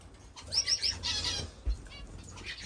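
A flock of pet birds in an indoor bird room flutters and flaps wings, with a short run of three sharp chirps and a few squawks over quiet room noise nearby.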